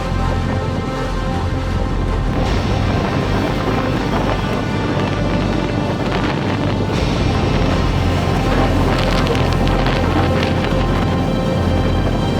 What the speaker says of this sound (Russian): Ветер очень сильный, невозможно ничего сказать и рассказать